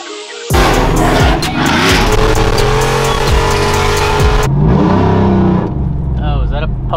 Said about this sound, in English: Oh, is that a po-po? That's a car.